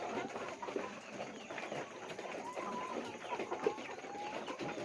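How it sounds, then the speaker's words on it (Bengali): Layer hens in a poultry shed cluck and murmur softly in a quiet, continuous chorus, with a few brief calls rising above the low flock chatter. "আর একটা লেয়ার মুরগি দেখেন"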